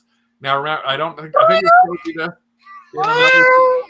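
Joy for All animatronic toy cat gives repeated short electronic meows, close and clear, alternating with a person talking nearby.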